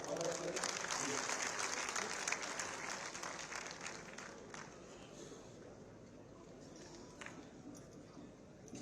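Loud applause from an audience fills the opening seconds, then gradually fades to scattered clapping and murmur.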